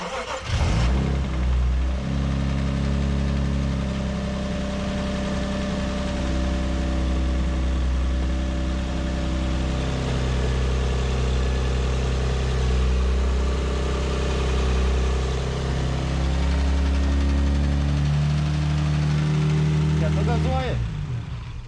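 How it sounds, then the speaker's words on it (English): A rebuilt Lexus IS200 engine cranks, catches and runs steadily at a loud, close idle, with small rises in revs and a cut-off at the end. "Some noises were coming out of the engine at first, but seemed to disappear after some time"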